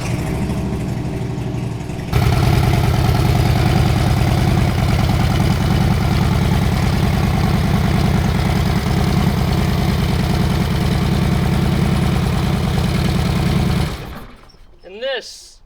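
A 2013 Harley-Davidson Road King motorcycle engine idles close by with a loud, steady low rumble and lumpy pulsing beat, which cuts off near the end, leaving a brief rising whistle.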